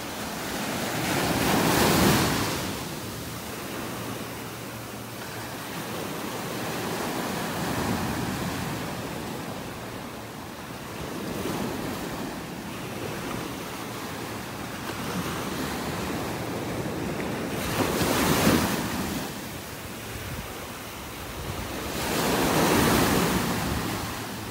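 Ocean surf on a Gulf beach in North Naples, Florida rolls in continuously, with waves breaking in loud swells every several seconds under light wind buffeting the microphone.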